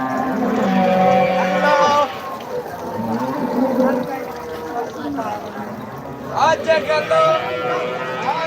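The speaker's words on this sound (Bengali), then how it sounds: "একটি গরু দেখানো হচ্ছে এখানে" A large cow at a busy cattle market in Bhangura lets out loud, drawn-out moos, heard close up among people talking and the general bustle of the market.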